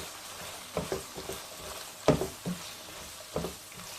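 Chicken with finely chopped carrots and capsicum cooks in a pan for egg fried rice, giving a faint, low sizzle broken by a few soft stirring clatters of the spoon and no talking.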